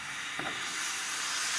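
Pork ribs braise in an iron skillet, giving a loud, continuous steamy hiss up close with one short clink partway through.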